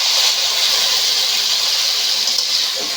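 Mustard paste and water poured into a pan of shrimp and okra, giving a loud, continuous hissing sizzle of steam that holds steady throughout.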